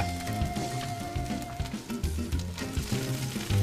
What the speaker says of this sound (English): So we're going to saute the onions for about 8 minutes